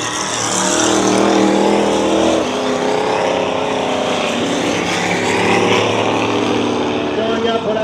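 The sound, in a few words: V8 race car engine at dirt track restart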